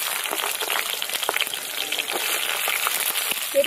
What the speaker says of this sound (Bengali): মাছ ভাজা তেলের মধ্যে আর একটু সর্ষের তেল দিয়ে দেবো, জিরে ফোড়ন দিয়ে দেবো